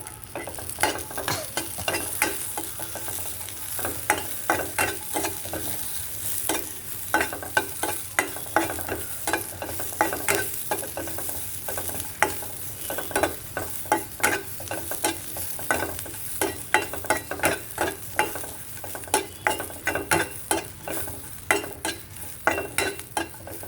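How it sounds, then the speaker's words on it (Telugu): Green chillies fry in a pan with roasted peanuts, chana dal and garlic for peanut chutney: a constant sizzle under rapid, repeated spoon scrapes and clicks against the pan, close and busy, with no voices. "ఇప్పుడు వచ్చేమో పచ్చిమిరపకాయలు వేస్తున్నాను."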